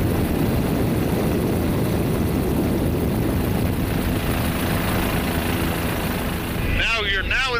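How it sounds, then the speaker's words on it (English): A helicopter in flight over the jungle near Mirador, Guatemala, gives a loud, constant engine and rotor drone throughout, with a voice briefly heard near the end. "So I'm in a helicopter"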